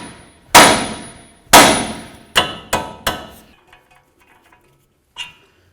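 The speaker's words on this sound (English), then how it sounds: "Now we're going to take a hammer and we're going to hit right here on the knuckle." A hammer strikes the steel steering knuckle of a 2007-2014 Cadillac Escalade five times in close succession, each a loud, ringing metallic clang. Lighter taps and one more faint clank follow.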